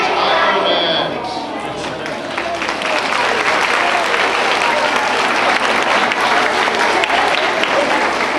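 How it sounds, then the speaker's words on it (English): Loud, dense applause from a school rally crowd fills the whole stretch, a steady wash of many hands clapping with crowd noise and voices mixed in, dipping slightly after the first second then holding. "One more round of applause for the second grade"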